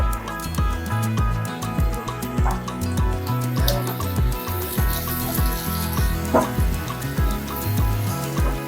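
Tomatoes dropped onto onions frying in a pan over medium heat, giving a steady sizzle with bursts of crackle and clatter close by, no talking heard.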